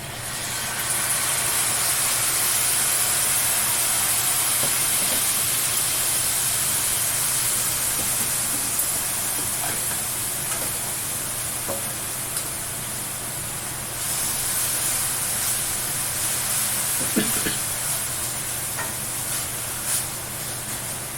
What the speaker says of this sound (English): now we add the balsamic vinaigrette reduction and a teaspoon of sugar